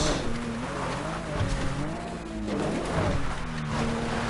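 A Volkswagen Passat drives off-road, its engine and tyres producing a steady, loud rumble with rough broadband road noise throughout, no one speaking.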